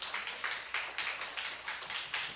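Congregation in a church revival service claps in a steady rhythmic beat, roughly two claps per second, moderately loud and without talk.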